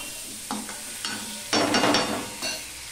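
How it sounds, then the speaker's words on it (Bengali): A spoon scrapes and stirs bitter gourd and potato with salt and turmeric in a frying pan, in a few short scraping strokes and then a denser burst of stirring, near and moderately loud. "এবার সম্পূর্ণটা আমি মিশিয়ে নিয়ে"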